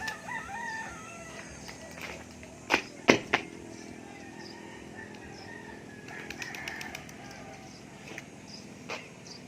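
A burst of pigeons' wing flapping and fluttering amid outdoor ambience, with a few sharp claps of wings standing out, then lighter rustling later on.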